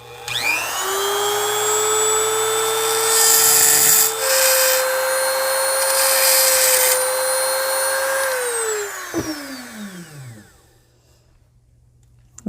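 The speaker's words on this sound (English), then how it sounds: "So I think it's time for the trusty Dremel." A Dremel rotary tool cuts into a die-cast Hot Wheels car with a loud, steady high-pitched whine and grinding rasp that holds for about eight seconds, then winds down as the motor spins to a stop.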